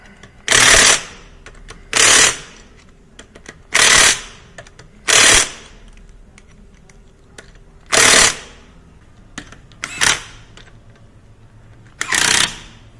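A pneumatic impact gun rattles on the lug nuts while winter tires are mounted, coming in seven loud, close bursts of about half a second to a second each, separated by quiet pauses.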